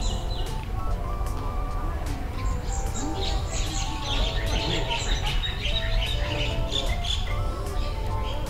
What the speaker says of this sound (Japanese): 鳥のさえずりがよく聞こえてきます。